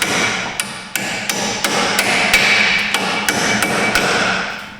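A hammer strikes parts into a trashed Traxxas RC vehicle, about a dozen sharp, close metallic blows in an uneven rhythm over a steady background hum, with no talking.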